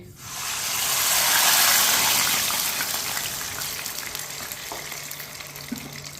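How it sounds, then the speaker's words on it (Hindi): Water splashes into a pan of hot oil and sugar, starting with a loud hissing gush that settles into a steady sizzle over about six seconds. No one speaks. "साथ में 1 कटोरी पानी डाल लेंगे।"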